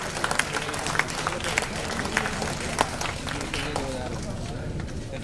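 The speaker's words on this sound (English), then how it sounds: "Big round of applause, ladies and gentlemen, for Professor Sudarshan." An audience applauds a professor at a university endowment lecture, steady dense clapping with sharp peaks that carries on evenly throughout, with faint speech-like sound beneath it.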